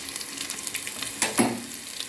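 Onions and ginger sizzle hard in a hot pan for a Mangalore dish. A close, steady crackling hiss is broken by a brief scrape of stirring.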